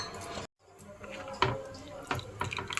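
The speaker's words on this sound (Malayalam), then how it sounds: "കുറച്ച് വെള്ളം കൂടി ഞാൻ ചേർത്ത് കൊടുക്കുകയാണ്" A little water poured into Kerala-style fish head curry, a near splash and trickle broken by a brief silent gap, then soft pouring and clinks.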